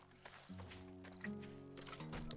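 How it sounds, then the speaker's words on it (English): A horse in a video game clip-clops with a few hoof steps and a brief snort or whinny, faint and close, over a low tonal hum. "Horse."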